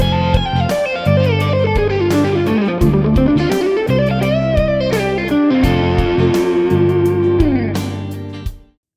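A distorted electric guitar with effects plays a fast major pentatonic lead lick, loud and up front, with bending phrases and quick runs over sustained low notes before a sudden stop.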